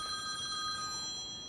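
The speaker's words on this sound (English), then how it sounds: "Phone's ringing." A telephone bell rings with a bright, sustained electronic trill at steady moderate volume, fading slightly toward the end, with no talking over it.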